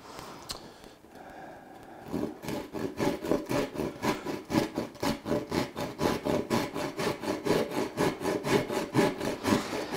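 A wooden spoon being hand-carved gives a close, rhythmic rasping scrape, stroke after stroke at an even pace, growing steadier and louder after a quieter start.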